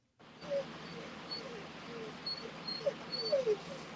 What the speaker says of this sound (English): dog is whimpering. Looks like your dog is upset. My dog is crying.